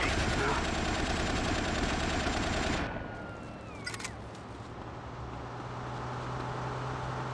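Dense automatic gunfire in GTA Vice City Stories, a loud rapid burst lasting about three seconds that cuts off abruptly, leaving engine drone and quieter ambience.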